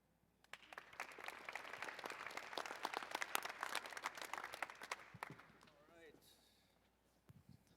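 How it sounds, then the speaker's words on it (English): Audience applause from a crowd at the Canyon Challenge 2017 event swells for several seconds, dense clapping that fades out as someone starts speaking. "a special applause for everyone here"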